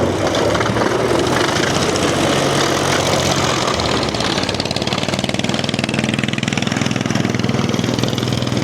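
Vintage survivor snowmobile engine idling outdoors at a winter sled show: a steady, loud, close mechanical putter with a rough, knocking pulse and no talk.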